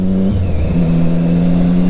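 A Triumph Street Triple 675R motorcycle with an Akrapovic sport exhaust rides through city streets in Porto Alegre, its engine note loud and close, shifting pitch once early and then holding a steady droning growl.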